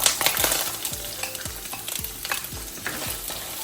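Onion and green chilli frying in a couple of spoons of oil in a hot pan: a continuous sizzle broken by rhythmic spoon-scrapes and stirs, roughly twice a second, close and clear.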